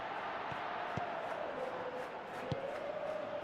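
Stadium crowd in a football video game on PS3, a continuous roar of massed voices with a rising chant, a few thumps over the top, heard from a distance.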